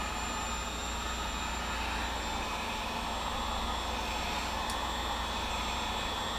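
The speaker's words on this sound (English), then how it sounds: "a hair dryer that'll remove the flesh off your body" A heat gun gives a steady, loud rush of blowing hot air that roars continuously without a break, close by.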